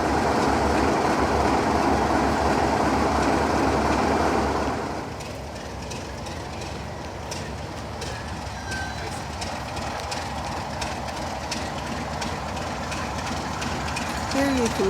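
A class 33 diesel locomotive at Totnes Riverside on the South Devon Railway makes a steady, loud rumble that drops after about five seconds to a lower, continuous drone with light rail clicks, during a diesel gala.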